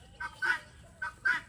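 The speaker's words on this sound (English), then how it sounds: "The beautiful golden-colored buff Orpingtons," Buff Orpington chickens on a farm, two close pairs of loud honking calls spaced apart over a quiet background.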